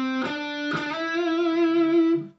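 Metalcore lead on a distorted electric guitar: two quick picked notes, then a slide into a long sustained note shaken with vibrato that rings out and cuts off, with no voices.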